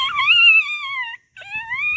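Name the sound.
man imitating a peacock call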